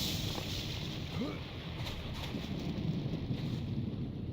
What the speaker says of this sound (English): I just don't know why the lightning's so dang loud